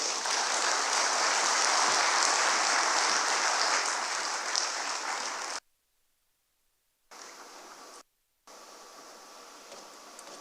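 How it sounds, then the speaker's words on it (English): An audience at a non-oil export summit in Nigeria applauds the Governor of the Central Bank of Nigeria, a loud sustained roar of clapping that cuts to silence, then resumes more faintly in broken stretches. "Let's make the applause warmer for the Governor of the Central Bank of Nigeria"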